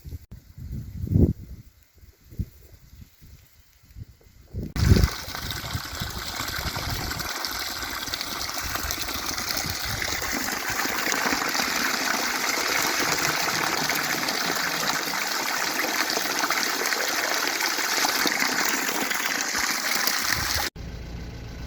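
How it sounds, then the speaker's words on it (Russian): A forest spring's water gushing below a slope, heard as a steady, loud rushing flow that sets in after a few quieter seconds and continues unbroken. "А вот тут вот внизу родник."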